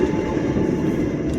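Train rolling into Rangkasbitung station, a close, loud, steady low rumble of wheels and carriages with faint rhythmic clacking.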